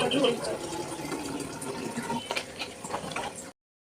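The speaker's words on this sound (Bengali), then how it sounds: "এখানে সমস্ত জলের বোতলগুলো ভরে ভরে রেখেছি" Water pours into plastic drinking bottles being filled one after another, a close, hollow gurgling rush that runs a few seconds and then cuts off abruptly.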